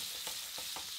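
Duck breast skin side down searing in a pan, a soft steady hiss of fat with a few faint stirring or shifting pulses, quiet and close.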